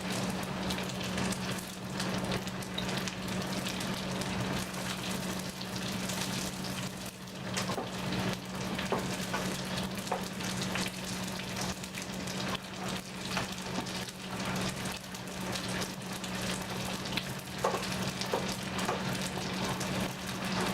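Pasta chips frying until crispy, heard as a dense, continuous close bubbling sizzle of hot oil at a steady level throughout, with no speech.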